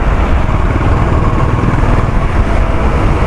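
Honda CB350 motorcycle engine held at full throttle while riding near 80 km/h, a loud steady droning roar with broadband wind rush, continuous and unbroken throughout.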